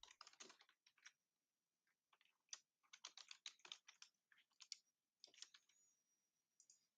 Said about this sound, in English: You're typing really fast.